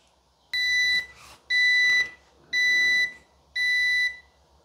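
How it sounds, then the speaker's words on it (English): A Cuisinart Coffee Plus 12-cup programmable coffee maker signals the end of brewing with four evenly spaced, loud electronic beeps, each about half a second long, sounding alone in a quiet room. "the coffee maker does beep at you when it's done"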